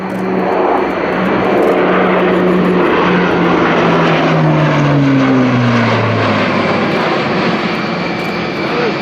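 An Airbus A400M military transport aircraft makes a flying display, its propeller engines droning loudly and steadily with a tone that sweeps downward as the plane banks past.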